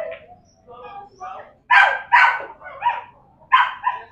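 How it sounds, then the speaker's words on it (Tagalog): A dog barks in loud, close bursts, first a few softer yips and then sharp barks in two clusters, with a faint voice murmuring underneath. "Aso niya."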